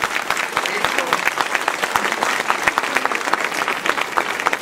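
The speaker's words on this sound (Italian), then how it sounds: "un piccolo applauso a questi giovani" A crowd at an evening torchlight procession for the Merciful Jesus applauds young people, steady energetic clapping with distinct individual claps throughout, full and close.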